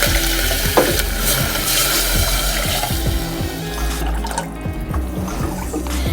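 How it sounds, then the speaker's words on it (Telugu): Water pours into a pot for making curry leaf rice, a close, steady splashing and gurgling stream with small sloshing bursts that runs the whole time without talk. "ఈ బౌల్ తోటి 2 బౌళ్ళు వాటర్ వేసుకున్నానండి"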